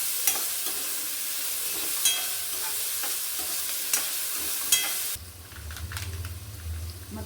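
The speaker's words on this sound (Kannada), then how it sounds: "ಫ್ರೈ ಮಾಡ್ತಾಯಿದ್ದೀನಿ" Two medium onions fry in a pan with a steady sizzle, broken by several sharp scrapes of a spatula stirring them. The sizzle then drops to a quieter, lower bubbling.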